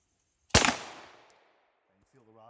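One loud, close handgun shot at target practice, a sharp crack with a ringing decay, followed by a brief voice.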